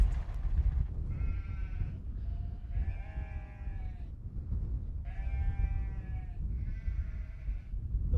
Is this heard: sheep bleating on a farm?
yes